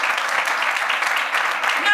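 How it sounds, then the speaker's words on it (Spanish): Congregation applauding during a Spanish-language church service, a steady dense patter of clapping that fills the whole two seconds at even loudness. "den un aplauso al Señor"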